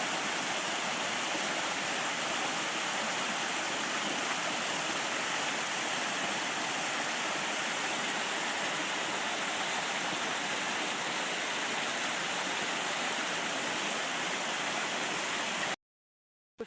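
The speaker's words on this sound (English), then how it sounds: "Nothing like the sound of running water." Running water of a creek beside a hiking trail in the New River Gorge rushes in a steady, even wash of sound that continues without a break, then stops abruptly near the end.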